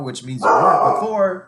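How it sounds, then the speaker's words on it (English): A pet dog named as barking in a home, its loud close barks and yips overlapping a man's lecturing speech. "I pardon my dog"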